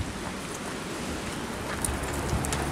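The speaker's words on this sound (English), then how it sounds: "Here's the rain" Steady rain falling outdoors during a brief spring storm, a constant dense hiss with occasional louder drops hitting nearby surfaces, no talking.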